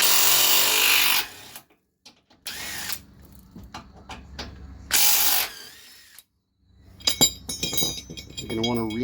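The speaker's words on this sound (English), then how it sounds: "we're going to remove our tie-down loops with a 17mm socket and our cordless" A cordless impact wrench with a 17mm socket removes tie-down loops during a truck skid plate install, firing three loud, short hammering bursts between quiet gaps, followed by clinks and a voice near the end.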